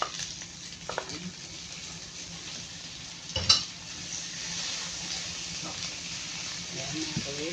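Pancit canton noodles with ham being stirred in a hot frying pan, a steady close sizzle of frying with scraping and clinks from utensil and pan, one sharper clatter midway, and a voice talking faintly at times.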